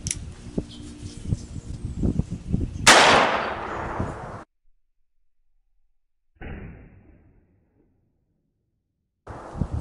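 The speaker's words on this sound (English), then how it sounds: "Here goes the Norma 22 mag." A single sharp gunshot from a .22 Magnum NAA Black Widow mini revolver firing Norma ammunition into ballistics gel, loud and close, cracking out around the three-second mark after handling noise, then a brief thump and near silence.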